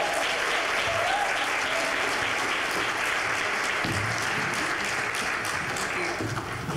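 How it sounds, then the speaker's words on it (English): An audience at a health symposium in South Carolina gives a sustained round of applause for a plenary speaker. The dense, steady clapping lasts about seven seconds and tapers slightly at the end. "Give her a round of applause."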